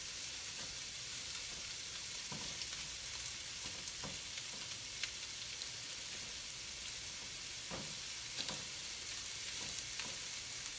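Shrimp sizzling in a frying pan with garlic and onions, a steady close crackle of frying with occasional louder pops and stirring scrapes, no voices.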